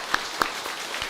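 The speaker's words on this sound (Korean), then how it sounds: "한번 박수로 격려하고 하나님께 영광 돌리겠습니다." A few separate claps ring out in a Korean church Sunday service, two sharp ones close together and then fainter scattered ones, like applause just starting.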